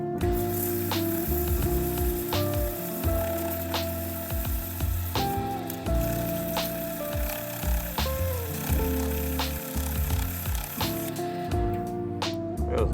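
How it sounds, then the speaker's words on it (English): Sandpaper rubbing a spinning wooden piece on a lathe, a steady loud whirring hum with shifting friction and brief scratchy bursts throughout. "Just a little bit of sandpaper here to make it smooth it out."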